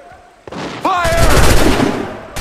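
Musket volley erupting in the Assassin's Creed III video game, a loud close burst of many guns firing together with a rolling crackle that lingers, and a short shouted voice just before it.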